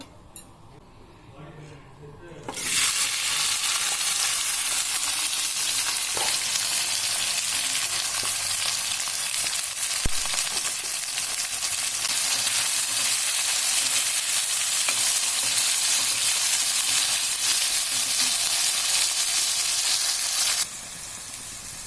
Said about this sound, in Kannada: ಎಣ್ಣೆಯಲ್ಲಿ ಫ್ರೈ ಮಾಡ್ಕೊಳ್ಳೋಣ ಸ್ವಲ್ಪ ಎಣ್ಣೆ ಹಾಕ್ಕೊಂಡು ತೊಂಡೆಕಾಯಿ ಎಲ್ಲ ಎಣ್ಣೆನಲ್ಲೇ ಬೇಯಿಸ್ಕೋಬೇಕು